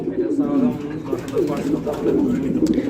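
Pigeons cooing steadily at a pigeon sale, low rolling coos repeating close by under a constant background murmur of people.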